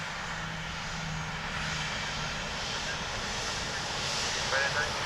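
An airliner comes in to land at Dublin Airport, its engines a steady broad roar with wind noise, heard from outdoors at moderate distance while radio voices talk over it.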